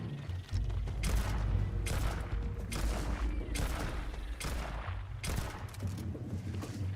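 Video game gunfire pours into a creature in repeated sustained bursts of rapid shots, each burst a few seconds long with brief gaps between, loud and close, with no voices over it.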